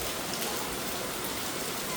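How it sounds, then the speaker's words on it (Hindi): Rain falls steadily, a faint, even hiss of drops spread across the whole moment with no other sounds standing out. "और बारिश भी हो रही है"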